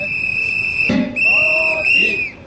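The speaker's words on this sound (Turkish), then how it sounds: "Arkadaşlar, bu taraftan düdük çalabiliriz" Shrill, sustained whistles blown at a street protest outside an embassy in Ankara, two long piercing blasts close by, one after the other, with crowd noise underneath.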